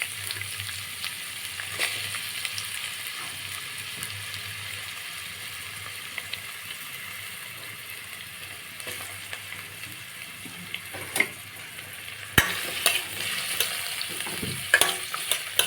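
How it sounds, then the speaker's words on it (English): Onion fries in oil in a pan, a continuous soft sizzle scattered with crackles that grow into sharper, louder pops and stirring clatter toward the end. "So first I'm going to take the onion and add to the oil."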